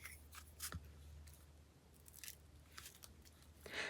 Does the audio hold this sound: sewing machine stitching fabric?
no